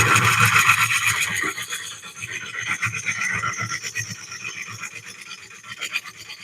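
A lathe tool cuts into a walnut bowl, producing a raspy, scraping hiss with a fluttering rhythmic texture, loud at first and then easing to a fluctuating grind, with no talking.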